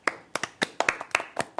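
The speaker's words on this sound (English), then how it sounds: "Let me give her a round of applause" A single person claps about nine times in an uneven rhythm. The claps are sharp and close, with no crowd, and no one speaks.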